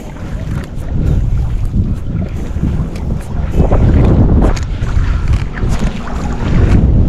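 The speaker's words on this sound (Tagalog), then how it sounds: "Ay, hangin." Loud, gusty wind buffets the microphone with rough, rumbling noise that rises and falls, likely outdoors near water.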